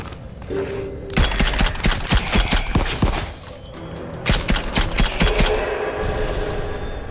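Pistol gunfire from The Light Brigade VR game rings out in loud, rapid bursts of sharp shots with brief pauses between volleys, close and dominant.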